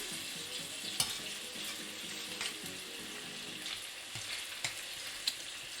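Bacon frying in a pan, cooked to crispy, giving a steady crackling sizzle with scattered pops and spits throughout, close and continuous with no talking.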